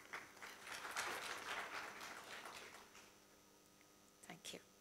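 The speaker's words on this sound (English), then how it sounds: "A round of applause for Mr. Ajay Jalan." Audience applause at the UAE-India Business Fest, a business conference in Abu Dhabi: a dense wash of clapping swells quickly, holds for a couple of seconds, then thins and fades, with a brief voice near the end.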